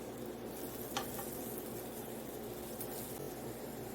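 Raw plantain slices frying in oil on a tawa give a faint, steady sizzle with a couple of soft clicks as a slice is turned, heard close but quiet with no talk.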